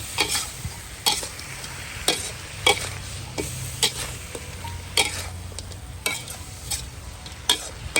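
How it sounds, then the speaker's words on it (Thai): Snakehead fish stirred and tossed in sauce in a hot wok, with repeated sharp metallic scrapes at a steady rhythm over a low sizzle. "เอาปลาลงไปคลุกนะครับ ปลาลงไปคลุกน้ำซอสครับ"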